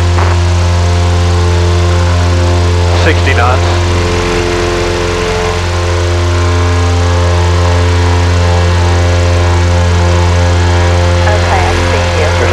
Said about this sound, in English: Engines are stable.